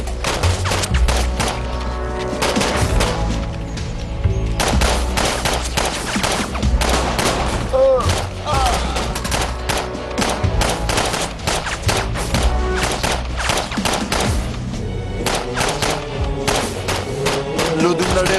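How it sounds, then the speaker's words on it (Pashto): Rapid gunfire fills a drama battle scene, with dense overlapping bursts of automatic shots and thumps continuing without pause, loud and close, with occasional shouted voices buried in the barrage. "نږدې مه پرېږدئ، ډزې وکئ"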